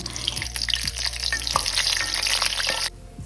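Dried round chillies frying in hot oil in a pan for rasam give a loud, continuous close sizzle that crackles steadily, then cuts off abruptly near the end.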